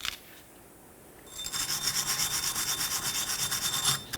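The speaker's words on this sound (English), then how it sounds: "The next thing we're going to do is clean up the mating surface of the wheel bearing where the rotor's going to ride" On a 2014–2020 Nissan Rogue, the rear wheel bearing's mating surface where the brake rotor seats gets scrubbed clean, producing rapid rhythmic rasping strokes close by after a brief quiet start.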